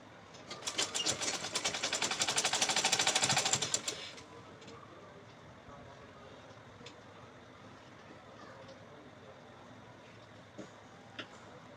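A sewing machine runs fast and steady for about four seconds while stitching lace onto the gathered waist of a girl's dress, then stops, leaving quiet room noise and a couple of small clicks.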